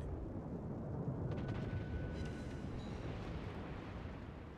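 Torpedo hits exploding against a ship in World of Warships, aboard the North Carolina battleship in stormy weather: a sustained low rumbling blast that rolls on steadily for several seconds, heavy and distant-sounding, with no talk.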